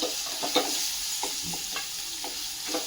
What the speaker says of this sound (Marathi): कांदा थोडासा आपल्याला म्हणजे गुलाबीसर रंगावरती परतून घ्यायचा आहे